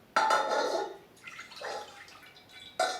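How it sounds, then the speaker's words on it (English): Milk pours into a saucepan in short, soft splashing bursts, a louder pour at the start, quieter trickles in the middle and another brief splash at the end, heard close up with no talk. "we're going to start with this 1 cup of milk, and the first step is to bring it to 200 degrees. So we're going to put this into our saucepan."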